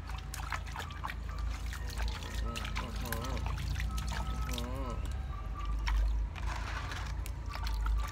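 Water pours and trickles steadily in the foreground while people talk over it during a pet monkey's morning bath, with some clattering and handling noises.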